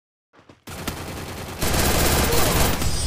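Rapid automatic gunfire in the Garena Free Fire mobile shooter, a loud sustained burst of shots that swells and grows denser halfway through, preceded by a short faint sound.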